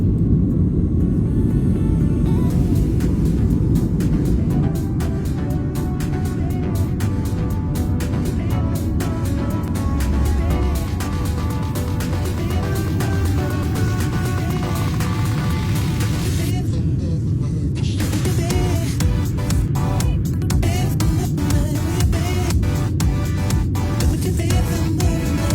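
A Qantas domestic airliner, Sydney to Brisbane, accelerating down the runway for takeoff, heard from inside as a loud, continuous low engine roar and rumble that stays steady throughout.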